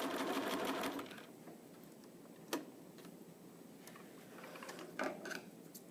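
Sewing machine stitching and feeding fabric for a neck cooler, a brief run of fast whirring at the start, then quiet ticking and small clicks of the mechanism, close but fairly soft.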